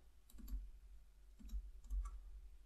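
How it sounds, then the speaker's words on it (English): Computer mouse clicks, a few sharp isolated taps spaced about a second apart, close and quiet over a low steady hum. "So right click and paste"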